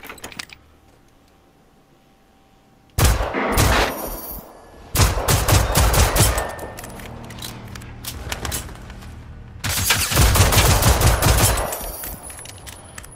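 Rapid automatic gunfire in the video game Generation Zero comes in three loud bursts of several seconds each, separated by quiet pauses, with no talk over it.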